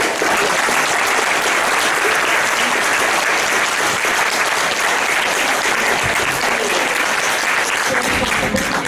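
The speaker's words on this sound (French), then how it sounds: "Merci à vous pour vos chaleureux applaudissements." Sustained, dense audience applause fills a theatre after a comedy play performed by an amateur company, loud and steady throughout with no break.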